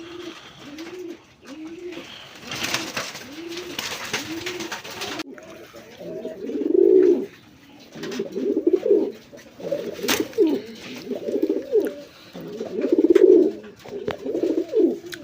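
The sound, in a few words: pigeons cooing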